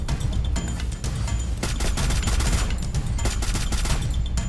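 Dense, continuous gunfire from a battle-royale style shooter game fills the clip, rapid bursts and volleys layered over one another at a steady loud level with no speech.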